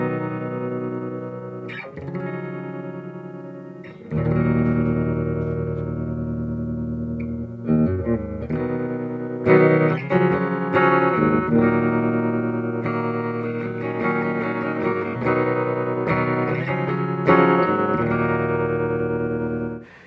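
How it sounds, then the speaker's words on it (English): Guitar notes and chords ring through an amp with its vibrato effect switched on, the sustained tones wavering in a steady pulse, played alone with pauses between phrases. "let's check this out and see what the vibrato sounds like first"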